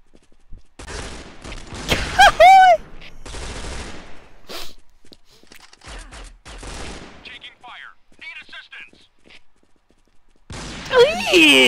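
Gunfire in the mobile shooter Point Blank Strike, scattered bursts and single shots between stretches of quiet, mixed with a player's excited talk and game sound effects.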